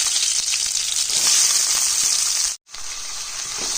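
Garlic and onion with mustard seeds sizzling hard in hot oil, a loud, dense hiss that runs continuously, cuts out for an instant and resumes just as strongly, close up with no talking.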